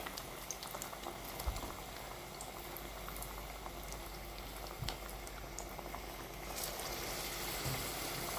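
Jackfruit bondas fry in hot oil with a steady, dense bubbling sizzle and occasional soft pops, continuous and fairly quiet throughout.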